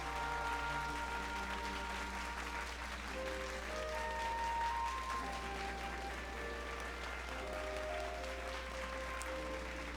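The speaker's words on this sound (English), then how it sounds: "My character's weird fast clapping. While everyone else has got like slower claps." Characters in the Final Fantasy XIV video game clap, one rapidly and the rest more slowly, making a continuous soft patter of applause layered over game music.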